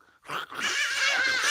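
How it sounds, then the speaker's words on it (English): Dogs make noise up close: a short yelp, then a drawn-out, whining, howl-like cry that holds for over a second, loud and alone. "These dogs are making noise."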